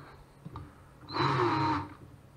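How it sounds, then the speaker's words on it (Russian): A cordless screwdriver whirs for under a second as it twists three wires clamped in its chuck, a steady close motor whine after a few faint handling clicks. "скрутить можно с помощью шуруповерта зажав их патрон"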